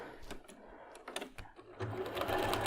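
A sewing machine stitching quilt block pieces together runs in short bursts of rapid mechanical clatter, near and moderately loud, with brief pauses before settling into a steadier run.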